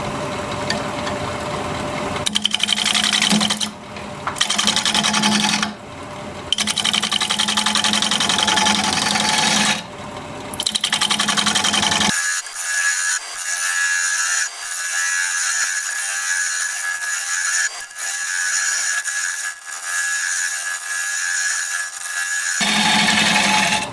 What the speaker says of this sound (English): So I'm just going to continue turning, and I pretty much have to stick with the carbide because I have to have tailstock support.